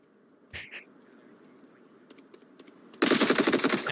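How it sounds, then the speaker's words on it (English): Video game gunfire in a team match: a couple of isolated shots early, scattered faint pops, then a loud rapid burst of automatic fire closing out the moment. "Gunshots go out from Andy."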